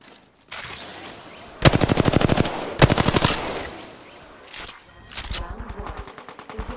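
Apex Legends gunfire comes in rapid automatic bursts, two loud close volleys of evenly spaced shots followed by a few single cracks and a trailing faster burst, with no voices.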